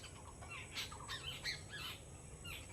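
A flock of small birds chatters and chirps nearby in quick, overlapping bursts of high calls, soft and fairly faint, with no voices.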